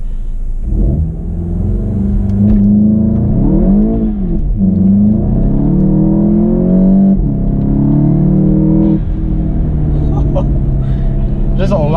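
A Cobb-tuned 2015 Volkswagen Golf GTI launches without launch control, the engine revving hard with shifting pitch sweeps and turbo whir, loud and close, with voices talking over it.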